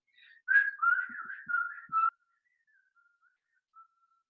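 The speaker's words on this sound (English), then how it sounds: "he whistled a lively" A man whistles a lively tune, a few bright quick phrases of clear, close whistling over a quiet background, followed by faint trailing notes and near silence.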